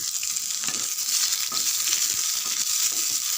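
Onions and garlic frying in a pan for a quick brinjal fry, giving a steady, close crackling sizzle with occasional stirring clicks throughout, with no talking.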